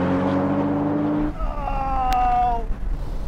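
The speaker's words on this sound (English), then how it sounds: "Now we're going to have a rolling race from 50 miles an hour in third gear" A BMW Z4 M40i, Porsche Boxster GTS and Audi TT-S accelerate in a rolling race in third gear from 50 mph, a loud engine note climbing steadily before a gear change shifts to a higher pitched, rising drone.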